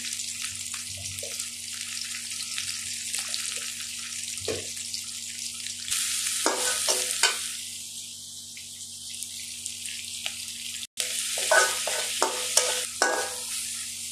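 Cardamom and cinnamon fry in oil, giving a soft sizzle with intermittent bursts of scraping and stirring over a low steady hum.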